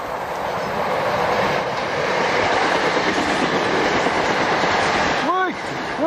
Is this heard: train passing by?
yes